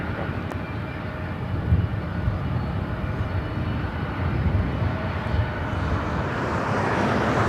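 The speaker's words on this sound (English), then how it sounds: "coming in from Portland on an old Northwest A319" An old ex-Northwest Airbus A319 in from Portland lands at LAX, a steady low engine rumble with rising hiss toward the end, heard alone without voices.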